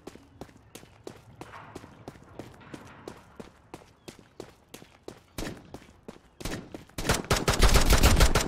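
Pistol gunfire in a fast-paced shooter video game: a steady run of sharp, evenly spaced shots that quickens into a dense, loud barrage of overlapping fire at the end.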